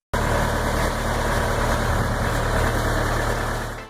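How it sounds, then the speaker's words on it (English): A spider excavator, a walking all-terrain excavator, runs its engine with a close, steady, low idling rumble that cuts in abruptly and holds unchanged to the end. "A spider excavator, also known as a walking excavator, is a versatile piece of all-terrain equipment"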